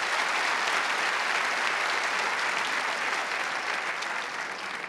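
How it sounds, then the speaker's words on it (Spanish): A studio audience at a Colombian TV talk show applauds steadily and loudly for the full stretch, a dense continuous wash of many hands clapping with no speech on top. "Un aplauso para el chisquito."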